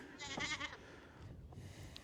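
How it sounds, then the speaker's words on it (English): Goats bleating on a farm on a chilly morning: one wavering bleat up front, then a fainter call near the end over low outdoor background noise. "Got the goat friends back there."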